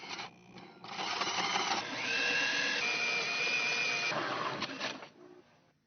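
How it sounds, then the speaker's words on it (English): A drill bores a 4-inch hole through a boat transom with a steady whining, grinding drone that builds, holds for several seconds, then winds down, heard close with no talking. "and drilled a 4-inch hole in the transom"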